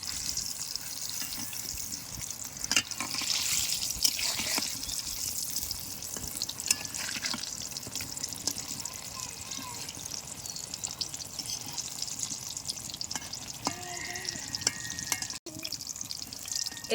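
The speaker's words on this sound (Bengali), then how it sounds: "বেগুনটা লাল লাল করে ভেজে নিতে হবে।" Eggplant slices fry in hot oil until reddish-brown, giving a steady, close crackling sizzle that runs unbroken, with occasional soft clinks and stirring sounds and a brief clatter near the end.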